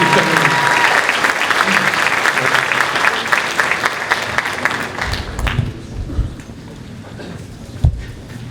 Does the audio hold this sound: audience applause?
yes